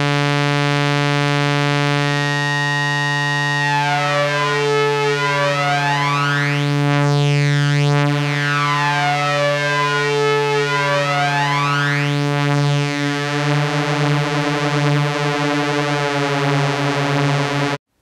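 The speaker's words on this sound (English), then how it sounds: "I really like this to turn a single saw wave into a sort of multi-saw type sound" A single saw wave fed through an Erica Synths Black BBD analog delay, with a slow sine LFO sweeping the delay time so it thickens into a shimmering, chorusing multi-saw drone. The drone holds steady and loud for about eighteen seconds, alone.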